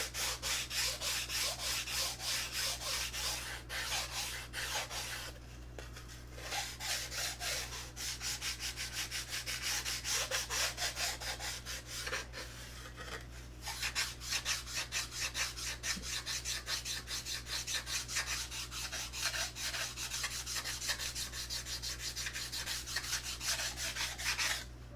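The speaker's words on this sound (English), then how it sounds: "So we need to sand a little bit of that off to get it down to 5/10." Wood being hand-sanded with 180 grit sandpaper, a steady rapid back-and-forth rasping that runs close and continuous, pausing briefly twice, over a low steady hum.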